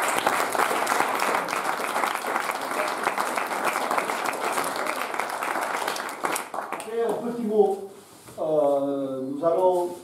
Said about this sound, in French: je voudrais que vous les applaudissiez encore fortement